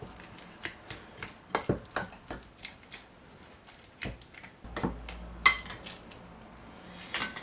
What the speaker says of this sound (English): use a fork to mash the potato.